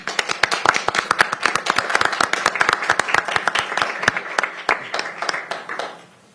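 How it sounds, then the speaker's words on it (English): An audience at a council meeting claps in a steady round of sharp, distinct hand claps that fade out at the end, with no talking. "Let's give a round of applause."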